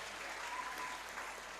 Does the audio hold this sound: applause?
yes